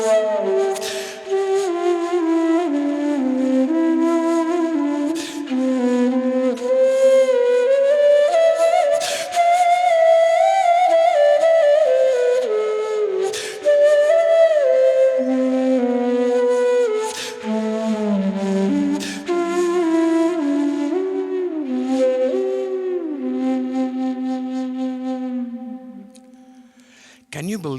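A breathy homemade PVC pipe flute plays a slow, flowing melody at close range, its notes gliding between pitches, with soft key and breath noises before the final note fades.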